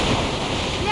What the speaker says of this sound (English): Watch out! The big wave!